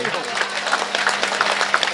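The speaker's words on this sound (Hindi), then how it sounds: "जोरदार ताली हो" An audience at a comedy evening stage show breaks into dense, steady applause, a brisk wash of many hands clapping together for a short burst.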